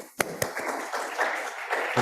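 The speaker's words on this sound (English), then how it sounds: "So please give a round of applause to Zhao." Applause from a small audience at an academic talk greeting the speaker: a couple of sharp isolated claps, then a brief, moderately loud patter of clapping, with no talk.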